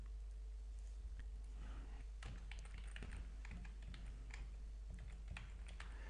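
Someone types on a computer keyboard while setting up an email account, producing quiet, irregular clicks of keystrokes over a low steady hum, with no voices.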